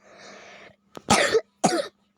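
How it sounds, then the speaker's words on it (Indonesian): A soft breathy rasp, then two loud, sharp coughs close to the microphone with a short gap between them. "saya lagi batuk teman-teman"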